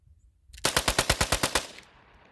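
A Taurus TX22 .22 pistol fires about ten sharp, evenly spaced shots in a quick string, loud and close, followed by a short ringing tail and then quiet.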